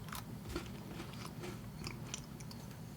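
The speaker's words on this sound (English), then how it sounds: "I'm sorry for all the eating noise" Quiet, close crunching and chewing of a cat-shaped treat with hot cocoa, with soft bites and mouth sounds over a low background hum.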